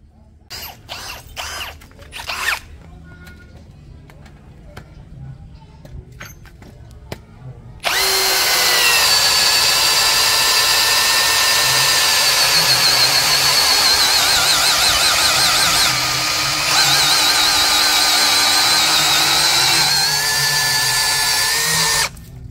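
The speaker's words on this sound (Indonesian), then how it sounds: "Selanjutnya mata bor Auger 25 mm pada kecepatan nomor 1, modenya mode drilling." A power drill fitted with a 25 mm auger bit, set to speed 1 in drilling mode, whirs loudly and continuously with a strained mechanical whine after a few quiet seconds of faint clicks and handling.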